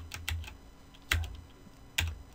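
Computer keyboard keys struck while working in Photoshop, three sharp separate taps spaced under a second apart, close and fairly quiet with faint background hum, no talking.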